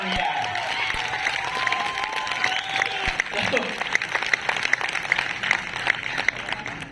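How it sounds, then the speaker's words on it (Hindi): Audience in a hall clapping hands continuously at steady strength, with scattered sharper claps and a few voices and tonal sounds mixed in throughout. "देखिए जब आप ताली बजाते हैं"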